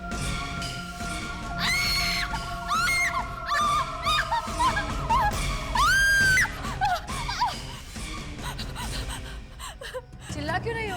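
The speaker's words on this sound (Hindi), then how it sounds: "चिल्ला क्यों रही हो?" A woman screams at night in an old haunted mansion during a horror story, with a series of loud, high, wavering cries and sharp gasps that rise and fall over about ten seconds, set against a dense noisy background.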